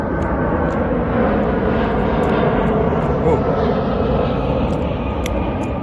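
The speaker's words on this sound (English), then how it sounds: "a big airplane just flew by" A big airplane passes low overhead on its way to land nearby, a loud steady roar of jet engines that fills the whole stretch without letting up.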